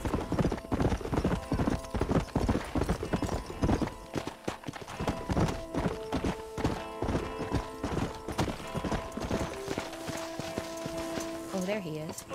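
Steady rhythmic hoofbeats clip-clop along continuously in Red Dead Redemption, with a horse whinnying near the end and game music underneath.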